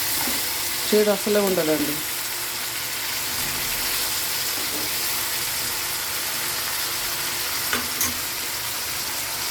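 Sliced onion and bitter gourd fry in a pan with a loud, continuous hiss and sizzle, steady and close throughout, with a brief spoken remark near the start.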